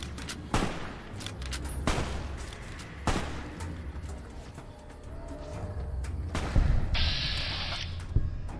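Video game gunfire in sharp, loud bursts at irregular intervals over a low rumble, with a brief high tone near the end and no one speaking.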